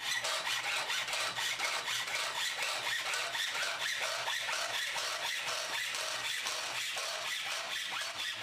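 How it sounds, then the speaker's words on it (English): A Swedish-made Nobex miter hand saw cutting a top frame, making a steady rasping back-and-forth sawing rhythm that is close and continuous throughout, with no voices. "Off to the Swedish made Nobex miter saw, where we'll cut the top frame and roller."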